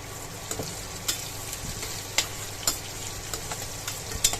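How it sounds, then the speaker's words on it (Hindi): Cumin, asafoetida and green chillies fry in hot oil for a dhaba-style bhindi masala, a steady soft sizzle broken by scattered sharp pops and stirring clicks, close up and free of talk. "अब हम यहाँ पे ज़ीरा और हींग ऐड कर देंगे, इसको भी थोड़ा सा फ्राई कर लेंगे ज़ीरे को।"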